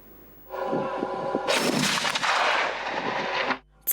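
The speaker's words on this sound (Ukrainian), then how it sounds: "Це перший постріл, який бійці Дніпровської бригади ТРО зробили з цієї трофейної БМП." A heavy cannon blast from a captured infantry fighting vehicle booms out at a test range, followed by a loud sustained roaring rumble that cuts off after a few seconds, with no voices.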